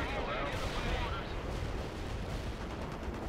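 Heavy artillery fires in the World in Conflict video game, giving a dense, continuous roar of booms and rumbling blasts, loud and sustained throughout.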